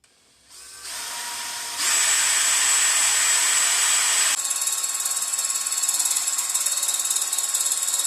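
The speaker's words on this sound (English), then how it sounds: "And I can get my drill in right there." A power drill spins up in stages and bites into a stainless steel turbo downpipe, giving a loud, high whine that settles into a steady grinding, chattering cut.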